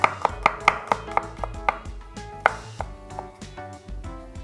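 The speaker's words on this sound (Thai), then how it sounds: "ซอยกระเทียมแล้วก็สับให้หยาบๆครับ" A knife slicing and then roughly chopping garlic on a cutting board, a steady run of crisp, close taps, about a dozen quick strikes that slow and soften toward the end, with no talking.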